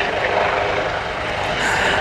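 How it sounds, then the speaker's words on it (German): NH90 and CH-53 military helicopters flying in at an air show, a steady, loud broadband rotor and engine roar that holds constant throughout with no voices. "Wenn Sie nach links schauen, sehen Sie nun wieder die einfliegenden Hubschrauber zur Aufnahme der Kräfte."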